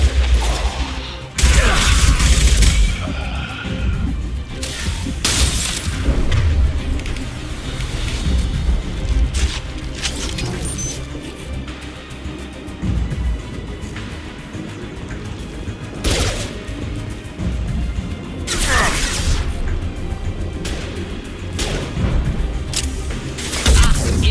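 Heavy combat gunfire in Mass Effect 2 forms a dense, continuous wall of shots and booming impacts, loud and close throughout, with occasional sharper blasts standing out from the din.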